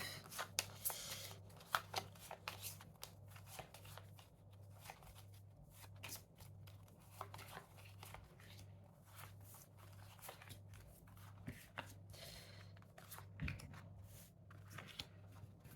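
Tarot cards handled and shuffled during a reading, giving a run of soft papery flicks and riffles over a low steady hum, with no talking.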